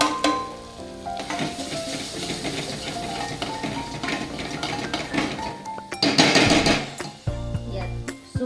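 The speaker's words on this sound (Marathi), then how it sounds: "गॅसवर कोरडे मसाले टाकून घेऊ" Dry spices frying in oil for a spicy mutton curry: busy sizzling and crackling up close, mixed with clinks of a pan and utensil and a few louder scraping stirs near the end.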